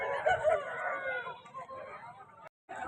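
A rooster crows close by at a fighting-cock market in Punganur, Chittoor district, with one loud, drawn-out call and people talking in the background.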